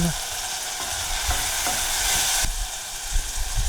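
A continuous loud sizzle of tomato and spices frying in a pan, with occasional stirring scrapes and soft knocks running through the hiss.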